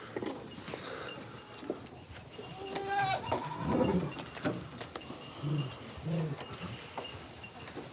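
Goats bleat on a farm amid busy barnyard noise and hoof clatter, with several bleats near and at moderate loudness, and a person talking briefly in the background.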